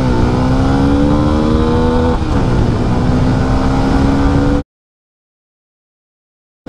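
A loud, close 125cc motorcycle engine hums steadily, then its pitch climbs as it accelerates from standstill, before the sound cuts off abruptly into silence.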